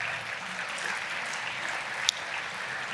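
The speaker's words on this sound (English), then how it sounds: "Please give yourselves a great big round of applause." Guests at a Tennessee Republican Party dinner applaud steadily, a broad wash of many hands clapping with one sharp clap or knock standing out.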